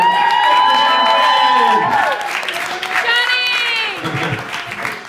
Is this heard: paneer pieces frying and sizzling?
no